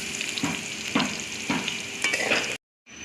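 Potatoes fry with turmeric powder in a kadai, a steady close sizzle broken by a scraping stir about every half second, before the sound cuts out briefly near the end.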